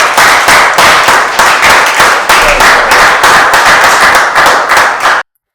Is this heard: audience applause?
yes